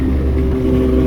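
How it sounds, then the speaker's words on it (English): A superbike's exhaust drones loudly and steadily up close in a short burst, a deep continuous engine roar that holds without a clear rise in pitch. "थोड़ा exhaust sound कम रखियो"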